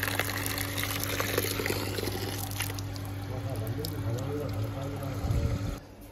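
Old water is tipped out of a tray and fresh water poured back in, giving a steady splashing pour over a low background hum, with voices murmuring faintly behind it.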